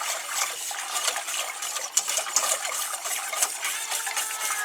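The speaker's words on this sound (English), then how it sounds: "get your whisk in there and just start stirring" A whisk scraping and stirring evaporated milk and water in a pan over medium heat, with steady quick metallic ticks and clinks against the pan close by, no talking.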